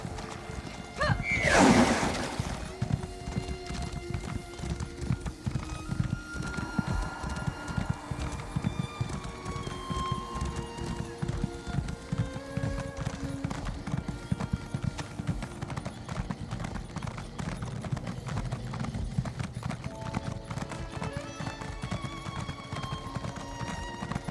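Rhythmic clip-clop of horse hooves while riding in the Elder Scrolls Online video game, a steady gait running throughout, with a brief horse whinny near the start and faint game ambience beneath.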